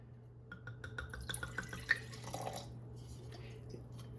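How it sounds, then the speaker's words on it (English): Liquid trickles and glugs into a glass in a short pour, with small ringing drips at first, then settles; quiet, close, over a faint hum. "let me pour the wine."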